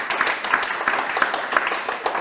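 An audience at a children's book reading night claps steadily, a continuous patter of many hands at moderate loudness.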